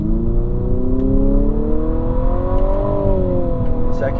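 A 2022 Infiniti QX55 in sport mode launches hard from a brake-boosted start, its engine drone rising steadily in pitch and holding loud and close for several seconds, with a slight dip before climbing again.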